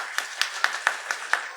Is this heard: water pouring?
no